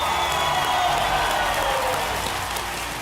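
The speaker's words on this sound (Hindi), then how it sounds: "एक बार फिर तालियों के साथ इनका स्वागत" Studio audience applauding to welcome the Indian women's cricket team on a quiz show set, a steady, dense clatter of clapping with some crowd noise that holds loud throughout and eases slightly at the end.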